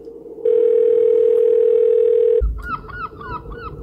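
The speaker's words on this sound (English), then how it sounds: "that's my cell phone" A cell phone rings in a Roblox remake of Thomas and the Magic Railroad: a steady, loud electronic tone holds for about two seconds, then cuts to chirpy warbling beeps.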